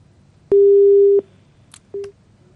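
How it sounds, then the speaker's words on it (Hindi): A telephone busy tone follows a disconnected call: one long steady beep, then a short second beep after a pause, loud and clear over a faint line hiss. "स्वदेश मालवीय जी ने फोन कट कर दिया।"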